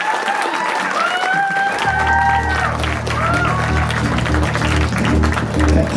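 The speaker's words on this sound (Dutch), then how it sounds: "laten we even met z'n allen klappen voor meneer Van der Buijs" An audience claps steadily for a teacher at a Markland College Oudenbosch school performance show. The dense, sustained applause runs throughout, over a low hum and some ringing tones.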